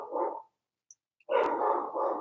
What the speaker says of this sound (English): And I want my dog to quiet down first.